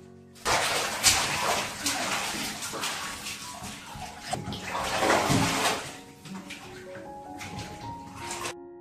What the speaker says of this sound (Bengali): এখন স্নানটাই করিয়ে নিচ্ছি